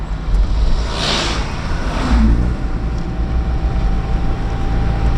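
A 1996 Volvo 440 car with power steering drives along a road, giving a steady, loud, continuous engine and road rumble with rushing wind noise throughout, no voices heard.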